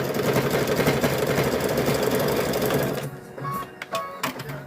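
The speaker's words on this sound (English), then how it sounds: "So I just sew across that side, sew across, and I'll show you guys here." A sewing machine stitching across the edge of fabric-wrapped rope for a rope bowl or placemat: a steady, dense mechanical whirring run for about three seconds, then it stops, leaving a few faint clicks and handling noises.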